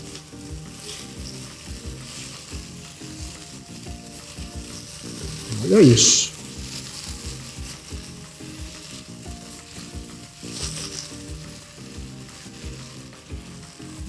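Puttanesca sauce sizzles and bubbles steadily in a pan as it is stirred, with a brief louder scrape partway through and a voice speaking once over the frying.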